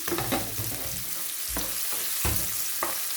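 Spinach kale frying in a hot pan, a steady broadband sizzle broken by a few sharp stirring scrapes and clatters of the utensil, close and moderately loud with no talking.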